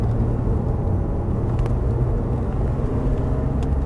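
GT3 race car lapping the Nogaro circuit, its engine a steady, dense low drone held at constant level through the whole stretch, heard from inside the car with no voices.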